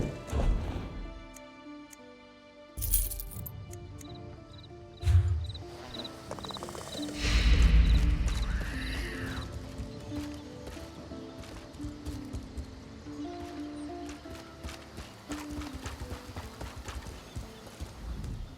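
A horse in the Elder Scrolls Online game, in the city of Daggerfall, clip-clops with steady hoofbeats and gives one loud neigh midway, over faint background game ambience.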